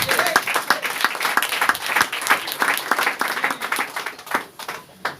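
A church congregation applauding in praise of the Lord, dense rapid clapping that fills the hall, loud and sustained throughout, with a few voices mixed in.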